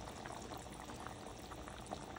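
Fish curry with tamarind water boils in a covered pot, a steady close bubbling and simmering hiss that holds evenly at low level without pause, with no voices over it.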